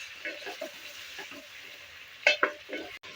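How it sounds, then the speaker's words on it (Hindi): Chicken sizzles in a pan with peas and spices while a spoon stirs and scrapes, giving soft frying hiss and a few sharper clatters close by. "चिकन फ्राई हो रहा है"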